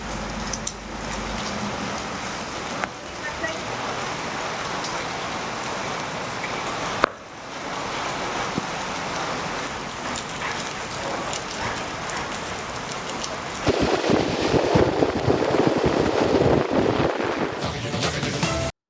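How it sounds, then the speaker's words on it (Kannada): Heavy, steady rain pours down without pause during a days-long downpour in Kodagu district, a dense continuous hiss that swells louder near the end, with no voices. "4 ದಿನಗಳಿಂದ ನಿರಂತರವಾಗಿ ಮಳೆ ಸುರಿತಾ ಇದ್ದು, ಶೀತ ಗಾಳಿಯೂ ಕೂಡ ಹೆಚ್ಚಾಗಿದೆ."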